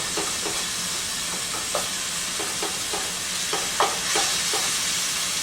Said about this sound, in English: I usually use a bigger pan to brown hamburger meat